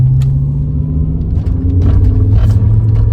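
A BMW M5 E60 with a Sprint Booster throttle mod pulls hard, its engine giving a loud, steady, deep rumble that swells slightly toward the end with no voices.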